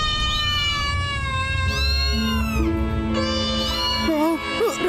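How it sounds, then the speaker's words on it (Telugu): Cartoon cats meow loudly and repeatedly in a drawn-out, wavering chorus as they attack, with long whining cries overlapping one another close up. "Cats attack!"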